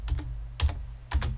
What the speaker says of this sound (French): je vais prendre mon clavier et je vais taper le nom de mon texte.